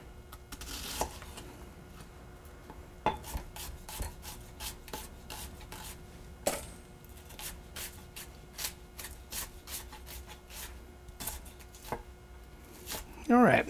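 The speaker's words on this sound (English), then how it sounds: "And then cut across so that my knife is always going down toward the cutting board," A knife chops fresh sage on a cutting board, heard as a long run of close, crisp knocks in an uneven rhythm, with soft rubbing in between and a brief clatter near the end.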